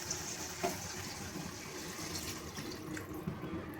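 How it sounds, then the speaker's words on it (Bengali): Tap water runs and splashes while a bowl is rinsed in a kitchen sink, a soft continuous flow with small knocks and clinks, fairly quiet and without speech. "বাটিটা ধুয়ে একটু জল দিয়ে দেবো।"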